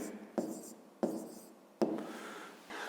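A pen writing out the answer to a math exercise on paper: three distinct bursts of scratchy strokes, each starting sharply and trailing off, close and quiet.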